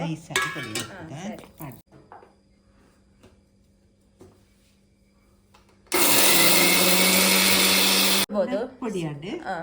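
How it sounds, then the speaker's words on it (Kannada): A mixer grinder whirs loudly for about two seconds, grinding fenugreek, cumin and ajwain into a fine powder for a village-style tamarind pickle. Quiet kitchen clatter comes before it, and voices talk before and after the grinding. "ಮೆತ್ತೆ ಜೀರಿಗೆ ಮತ್ತೆ ಓಂ ಕಾಳು ಅದನ್ನು ಚೆನ್ನಾಗಿ ಹುಡಿ ಮಾಡುವ."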